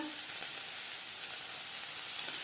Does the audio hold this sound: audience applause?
no